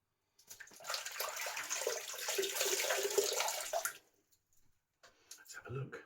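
Water from a tap splashes steadily for about three seconds while a face is rinsed after shaving with a razor, then stops, followed by a few faint drips and small bathroom sounds.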